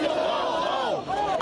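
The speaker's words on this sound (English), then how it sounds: "The crowd erupted in boos and jeers as Mayor Bill de Blasio took the microphone." A crowd boos and jeers as Mayor Bill de Blasio takes the microphone at a memorial for George Floyd. Loud, massed voices rise and dip briefly, then surge again.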